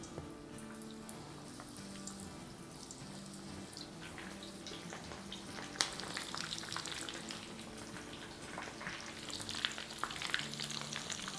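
Butterfly shrimp fry in hot oil in a pan with a continuous, fairly quiet crackling sizzle that thickens slightly as more pieces go in, joined by occasional light clinks.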